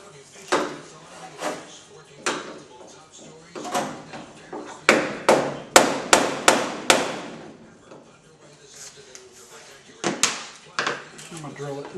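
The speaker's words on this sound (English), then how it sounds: "Now I'm going to knock the head of the rivet off." Sharp metallic hammer blows strike repeatedly to knock a rivet head off, some spaced out and others in a quick burst of several hits, with faint talking between them.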